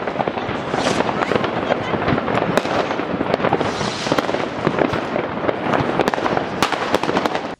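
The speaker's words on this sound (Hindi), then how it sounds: "दरियाए राइन पर आतिशबाजी के दिल फरेब मुजाहरे ने लोगों के दिल जीत लिए।" New Year fireworks over the Rhine in Bonn, Germany: a loud, continuous barrage of crackling bursts and sharp pops overlapping densely throughout, with no clear pauses.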